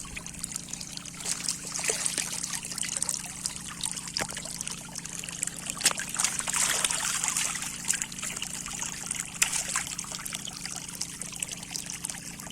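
Water trickles and pours steadily over broody hens to cool them, a continuous wet splashing stream lasting the whole stretch with a low steady hum beneath and no talk.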